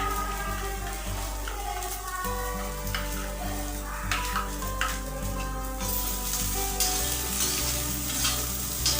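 Soybeans in a malai cream mixture being stirred and fried in a pan, a steady close sizzle with repeated spoon scrapes and taps, under a constant low hum.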